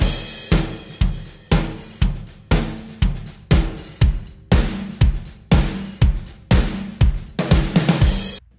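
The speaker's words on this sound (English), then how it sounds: "to show you that groove without the kick and snare samples" Programmed pop-country drum groove played first bare, then with layered kick and snare samples added: a steady repeating beat of hits over a continuous cymbal wash, growing punchier partway through.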